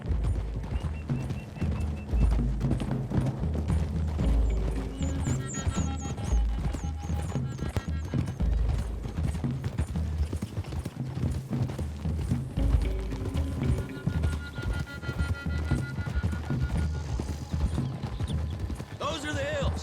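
Horses gallop in a Western video game, a rapid clip-clop of hooves with occasional whinnies running under game music and characters talking throughout.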